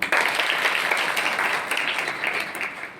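An audience at a student development programme session breaks into sustained applause, a dense wash of many hands clapping that tapers slightly toward the end.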